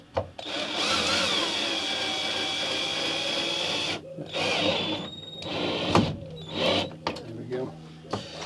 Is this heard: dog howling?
no